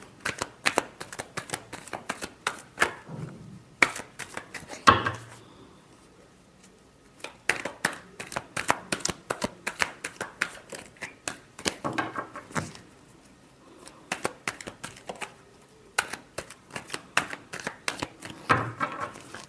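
A deck of tarot cards is shuffled in repeated close, crisp riffling bursts separated by short pauses, with no talking over them.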